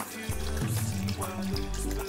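Milk pouring into a blender for an avocado banana smoothie with almonds, a steady close liquid stream with shifting pitch as the container fills, continuous and fairly loud throughout.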